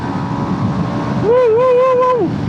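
A Yamaha XSR 155 motorcycle is ridden along in fourth gear, its engine a loud, continuous drone under rushing wind, with a smooth rising tonal whine joining midway.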